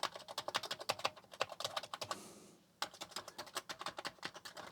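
Fast, steady typing on a field-found Commodore 64 keyboard, dense clicking keystrokes up close with a brief pause midway, then more rapid presses, no voices.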